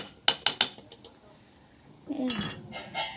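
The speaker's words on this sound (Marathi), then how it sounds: "गॅस मी चालू ठेवलेला नाही आणि मी फिरवते" A spoon stirs and scrapes fried cabbage in a pan with the gas off: a few sharp metallic clinks early, then a longer scraping, rustling stretch near the end.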